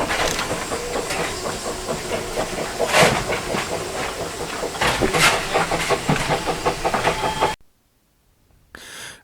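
A steam locomotive hauling a passenger train, with a second engine banking at the rear, hisses and chuffs while carriages clatter over rail joints, loud and close, before it suddenly cuts to near silence.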